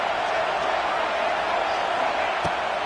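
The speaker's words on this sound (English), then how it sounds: "Listen to this crowd just shaking the girders of this place, trying to help their defense." A roaring crowd at a Clemson college football stadium sustains a loud, continuous wall of cheering noise that fills the space evenly throughout.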